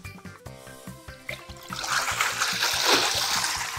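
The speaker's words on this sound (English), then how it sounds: "All the water just came out." Water gushes and splashes out as a small play dam is opened, a rising rush building over a few seconds beneath steady rhythmic background music.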